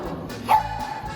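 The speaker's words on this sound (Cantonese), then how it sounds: "佢啱啱吠我嘅喎" A single short bark from an animal at a safari park, loud and close against light background noise.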